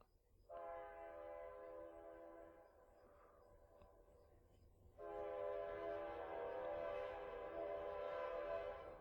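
A passing train sounds two long, loud horn blasts, separated by a short gap, over a low rumble of the rails.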